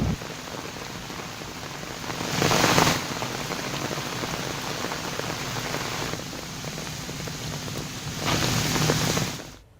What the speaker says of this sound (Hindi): जहां सासाराम में आज घंटों मूसलाधार बारिश हुई।